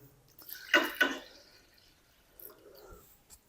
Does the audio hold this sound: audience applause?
no